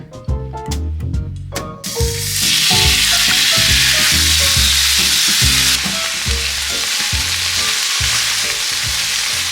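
Chicken frying in a pan at home, giving a loud, steady sizzle and hiss that swells after a brief quieter start, with occasional clinks from utensils and a faint rhythmic music bed underneath.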